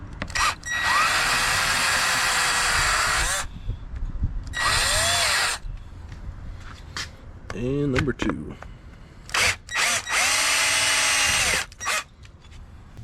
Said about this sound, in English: So I'm going to drill out these washers and go to the next step so that I can get access to that vacuum pump.